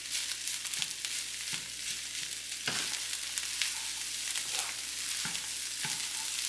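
Chicken andouille sausage fried rice sizzling in a hot pan, a dense steady hiss close up with periodic scraping knocks from stirring, no voices.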